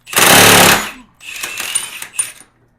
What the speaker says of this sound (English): We got our 30 millimeter socket, got our big impact. Let's break this loose.